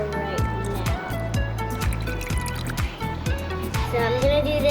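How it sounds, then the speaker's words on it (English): Vinegar pours into a small baking-soda volcano, a liquid trickle and slosh running under excited children's chatter and a steady background beat throughout. "So I'm pouring in the vinegar right now."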